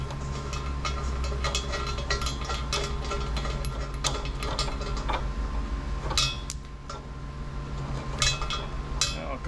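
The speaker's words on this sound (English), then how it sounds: "put a washer on the bolt and get it fastened together here" Metal washer and bolt clinking and scraping as they are fastened together on a 1940 Packard, a steady run of small close taps and rattles over a low background hum.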